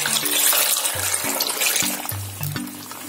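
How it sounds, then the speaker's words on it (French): Water is poured into a cooking pot already holding mustard, liquid cream and salt, a steady broadband splashing stream running close and continuous, with a low intermittent hum beneath it. "Maintenant, j'ajoute de l'eau."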